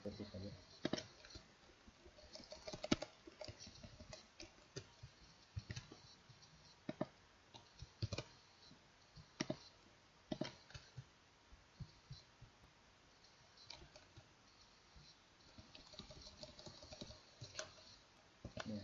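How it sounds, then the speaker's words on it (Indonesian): Keys clack on a computer keyboard while someone enters numbers into a simple VLOOKUP spreadsheet database, in irregular bursts of sharp, close clicks with short pauses, some low thumps and a faint voice underneath. "jadi tinggal saya ketik saja"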